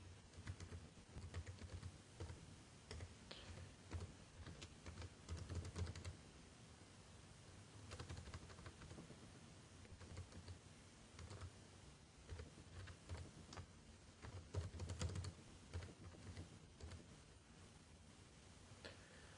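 Keystrokes on a computer keyboard entering a command, quiet and irregular with scattered clusters of taps over a low background hum, no talking.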